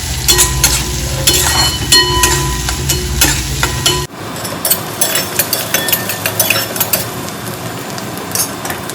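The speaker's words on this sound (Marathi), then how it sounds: "आता मी एका कढईमध्ये मी कांदा, जिरे, मोहरी टाकून परतवून घेतलेले आहे" Onion, cumin and mustard seeds sautéing in a kadhai give a steady sizzle with scraping stirs, loud and close, changing to a lighter crackle partway through.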